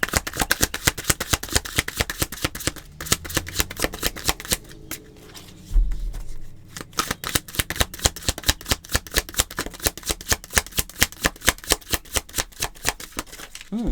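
A deck of tarot cards is shuffled by hand, with steady rapid riffling flicks close up, a short pause midway and a soft thump before the fast shuffling resumes, with no talking.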